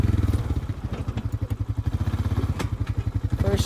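Honda Rancher 420 ATV engine idling and chugging steadily at close range while towing in first gear, a low pulsing rumble with some rattling clatter, no talk.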